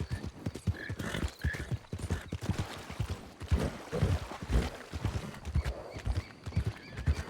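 Horse hooves clip-clopping at a steady walking rhythm in a Western-style video game, close and clear as the horse passes, repeated hoofbeats running throughout without speech.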